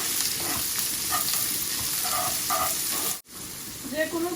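Onions sizzle in hot oil with a bay leaf in a home village kitchen, a loud, continuous frying hiss broken by stirring scrapes and a brief pause, with a voice speaking softly over it.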